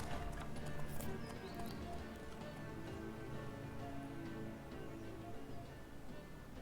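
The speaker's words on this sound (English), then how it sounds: "Esse cavalo não é meu." A horse's hooves clip-clop at a steady walking pace in The Witcher 3: Wild Hunt, fairly close, with soft rain-like ambience and a faint whinny behind it.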